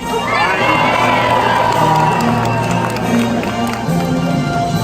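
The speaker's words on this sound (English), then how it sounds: "I want you guys to scream and cheer as loud as you can." A loud crowd of theme park show audience members at Universal Studios Hollywood screams and cheers continuously, shrill voices blending into a sustained roar that swells and holds throughout.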